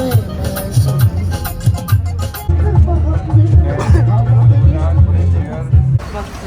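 On a busy street in Kandy, Sri Lanka, voices chatter nearby over a general street hubbub with passing traffic, the talk loud and close.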